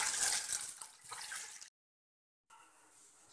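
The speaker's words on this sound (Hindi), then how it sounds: "साफ पानी डालेंगे पीने वाला।" Clean drinking water poured into a cooking pot of washed mangoes with turmeric, a close splashing gush that stops abruptly, then a quieter trickle resumes.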